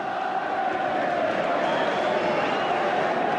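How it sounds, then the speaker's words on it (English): A football crowd at Old Trafford in jubilation at a Manchester United v Leeds United Premier League match, with a dense, continuous roar of cheering and chanting that fills the space, a commentator's voice heard over it. "The sound of the crowd tells the story here."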